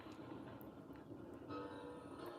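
Train rolling past at close range in the Red Dead Redemption 2 video game, a steady loud rumble of wheels and cars with a faint high whistle-like tone entering partway through.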